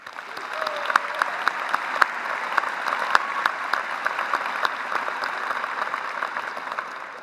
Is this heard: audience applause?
yes